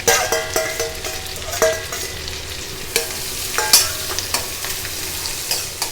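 Onions fry in a pan with fennel, cinnamon, cloves, green chili and ginger-garlic paste for vegetable biryani, a soft steady sizzle broken by a spoon scraping and clinking against the pan every second or so.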